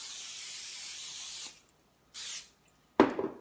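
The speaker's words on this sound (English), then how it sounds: "I'm going to spray it with cooking spray" Cooking spray hissing from an aerosol can onto a regular cookie tray and wire rack, a long steady burst followed by a shorter spray and a final brief one, close and alone.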